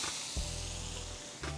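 Butter and garlic go into a pan beside a ribeye steak, giving a loud close hiss over a low electric hum, with short bursts at the start and end.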